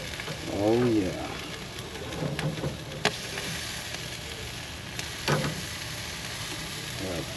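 Jamaican jerk pork sizzles steadily in hot fat as it is turned, a constant frying hiss with a few brief scrapes and clatters from the turning, with a voice briefly present early on.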